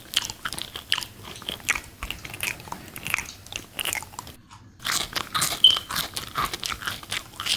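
Loud, crisp crunching bites of Popeyes fried pickles followed by steady chewing, close up, with a brief pause in the middle before more crunching.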